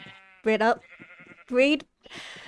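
Two loud video game sheep bleats, close and clear, with a short bleep-like tone between them and a brief noisy rustle at the end.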